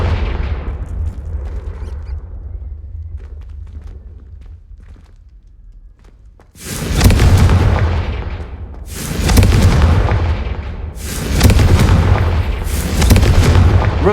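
Confringo blasting spell explosions in Hogwarts Legacy hit as four heavy, booming blasts in quick succession, each loud and rumbling, after a quieter stretch of low ambient rumble.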